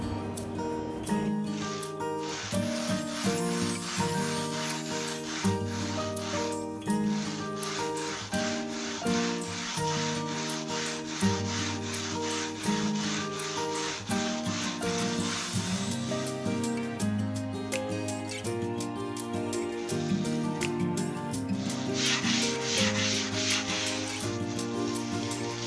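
Telescope mirror being rough ground with abrasive, a continuous close gritty scraping and rubbing of glass on glass in repeated strokes, steady throughout.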